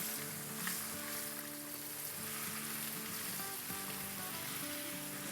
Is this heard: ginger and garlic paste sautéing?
yes